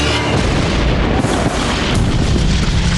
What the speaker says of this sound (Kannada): ಅಲ್ಲಿ ಪಟಾಕಿ ಫೈರ್ ಆಗಿ ಆಕಾಶಕ್ಕೆ ಹಾರಿ ಸಿಡಿಯತ್ತೆ